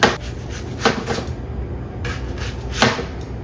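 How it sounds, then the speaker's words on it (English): A knife slices onions very thinly on a cutting board, producing a few crisp, close chopping strokes at an irregular pace. "I'm gonna go ahead and slice my onions really, really thin."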